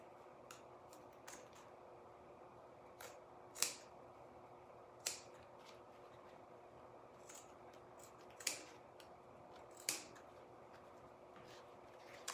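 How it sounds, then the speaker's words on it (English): Several crisp snips of dull scissors cutting canvas fabric, spaced irregularly over a quiet background hum, with a few fainter clicks between them. "I really need to sharpen my scissors."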